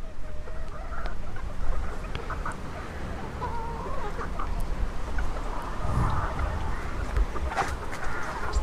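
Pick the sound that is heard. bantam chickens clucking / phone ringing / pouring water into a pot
bantam chickens clucking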